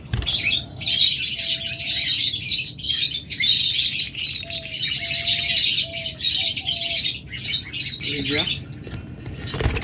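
Green opaline pet birds in a bird sale shop give short tonal chirps and squawks, scattered calls close by with a voice talking over them.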